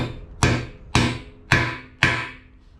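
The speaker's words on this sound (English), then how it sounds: "So you just got to hammer it." Four sharp metallic hammer blows on a bolt land at an even pace, each ringing briefly before the next strike, close and loud.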